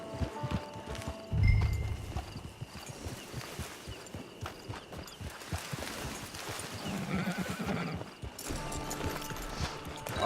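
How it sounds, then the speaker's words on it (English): Horse hooves clip-clop at a steady walking rhythm in the Red Dead Redemption 2 video game, with a loud whinny breaking in early and game ambience around it; no one speaks. "Get your horse."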